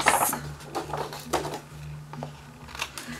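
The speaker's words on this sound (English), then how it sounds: "snip off the edges" A few crisp snips of scissors cutting paper, close by, with light rustling of paper between cuts.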